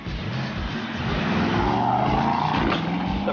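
Car engine and exhaust in Sports Plus mode: a throaty, aggressive drone that rises slightly in pitch as it revs, heard close and continuous over about three seconds with no talk.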